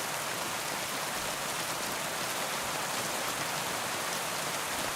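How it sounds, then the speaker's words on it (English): Steady rainfall in the video game Kingdom Come Deliverance 2 forms a dense, even hiss of drops on surfaces, constant and moderately loud with no voices. "Oh man, like, listen to that rain"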